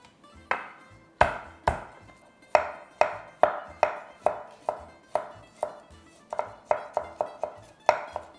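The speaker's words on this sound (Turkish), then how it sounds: "Ve en son olarak da sarımsakları incecik doğrayacağım." Rapid knife strokes finely chopping garlic on a cutting board, a steady series of sharp wooden taps, close and crisp, with no voices.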